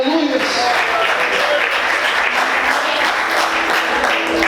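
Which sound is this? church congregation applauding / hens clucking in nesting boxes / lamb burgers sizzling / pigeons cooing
church congregation applauding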